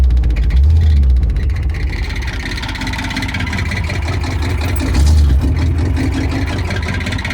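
A 1973 Ford F-250 engine running after sitting 18 years, shifted into drive, a loud close rumbling idle that swells twice as the throttle rises, steady throughout.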